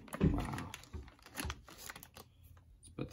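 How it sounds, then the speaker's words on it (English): SteelSeries Prism keycaps pressed onto a keyboard, a handful of small plastic clicks and taps, close and quiet, with soft handling noise between them. "All the keys are off, so start putting the keycaps on now."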